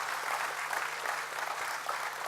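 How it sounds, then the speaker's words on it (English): An audience claps at a conference opening ceremony in steady, fairly soft applause that continues evenly without pause. "A big round of applause for Dr. Marope, please."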